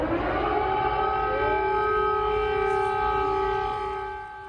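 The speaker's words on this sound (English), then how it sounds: "Air raid sirens like that have been going off all day" An air raid siren wails over Kyiv, Ukraine, during the Russian assault on the city. The sustained, steady tone is heard alone from a distance and fades slightly at the end.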